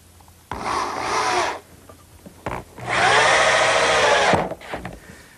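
Woodworking on a dovecote project: rough rubbing and scraping bursts as a wooden piece is slid into dados and fastened with 2.5-inch screws, two longer grinding passes separated by short knocks, fairly close.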